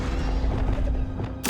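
A Confringo blast spell goes off in Hogwarts Legacy: a sudden, loud, broad burst lands near the end, cutting through a steady, rumbling game background.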